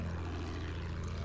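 A propeller plane in Battlefield 1 hums in a brief, steady engine drone, fairly loud and with no voices over it.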